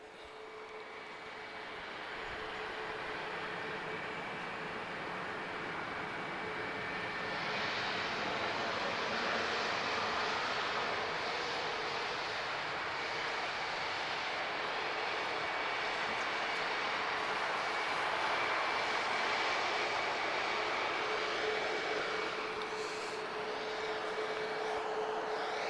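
Airliner TP1359 from London Heathrow arriving at Lisbon Airport, a steady loud jet roar that builds from quiet to a sustained rushing drone held for the whole stretch, heard from nearby.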